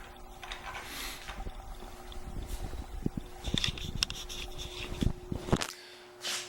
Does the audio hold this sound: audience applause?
no